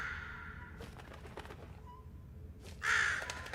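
A single harsh bird squawk, crow-like, from The Room puzzle video game, sounding sharp and fairly close over quiet ambience after some faint clicks.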